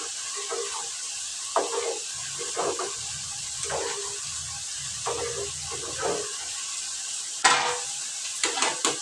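Onion and rice fry in a pan while being stirred, a soft sizzle under repeated scraping stir strokes and clinks, close and moderately quiet, no speech.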